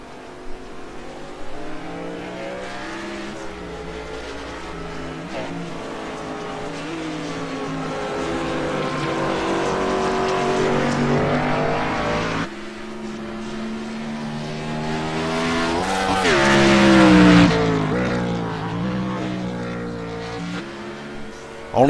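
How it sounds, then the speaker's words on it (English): A Gen 6 race car revs hard on a track, its engine note climbing and falling through gear changes with a loud, steady roar and a sharp surge of acceleration near the end. "driving the MaxSpeedTV car here, Kyle Streichert."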